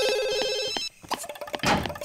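A telephone rings in the video game The Sims Life Stories, a short electronic trilling ring followed by clicks and game sounds.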